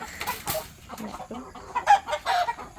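Chickens cluck and squawk nearby in short bursts inside a coop as they are chased and caught, with rustling movement and a faint voice in the background.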